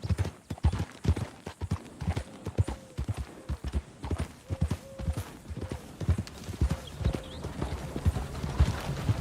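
Horse hooves clip-clop at a steady walking rhythm in Red Dead Redemption 2, clear and fairly close, with a brief whinny-like tone recurring in the middle and no voices.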